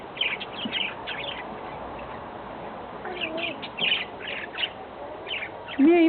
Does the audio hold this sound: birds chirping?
yes